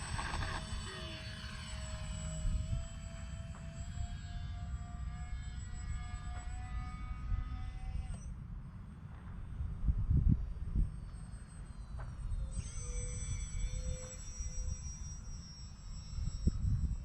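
X-Fly P-68, a small twin-engine RC model airplane, flies overhead with a steady high electric whine, its pitch sliding as it passes, heard at a moderate distance under faint background wind.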